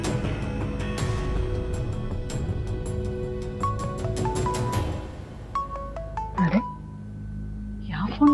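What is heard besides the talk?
mobile phone ringing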